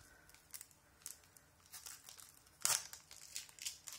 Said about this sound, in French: ça va ouvrir le booster